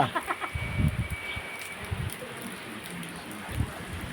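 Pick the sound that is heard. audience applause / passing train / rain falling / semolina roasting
rain falling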